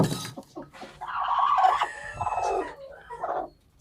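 A hen indoors, by a clutch of eggs she is being set on to brood, clucks and squawks loudly and agitatedly at close range, her calls rising and falling in quick, noisy bursts.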